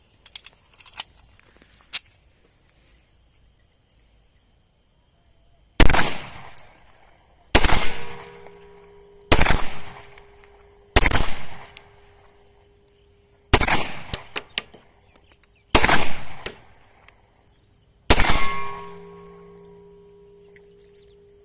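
Brazilian Taurus pistol fired outdoors, about seven sharp loud shots spaced roughly two seconds apart, each followed by a brief ringing tail, with small metallic clicks before the first shot.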